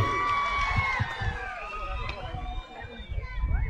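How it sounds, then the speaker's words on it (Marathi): A Dussehra rally crowd of Dhangar community supporters cheers and shouts loudly together, with overlapping voices and a few claps in a continuous outdoor roar. "एकदा जोरदार टाळी त्यांच्यासाठी."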